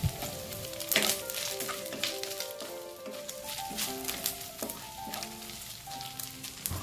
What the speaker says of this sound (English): fry the anchovies together with the other ingredients until the anchovies are done